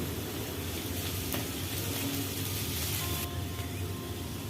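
Chopped vegetables, carrots and beans, frying in a pan with green chillies, a faint continuous sizzle heard at a distance with no voices.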